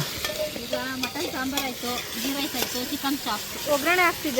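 Onions sizzle steadily in a hot pan outdoors while a spatula stirs and scrapes, with a person talking over the frying.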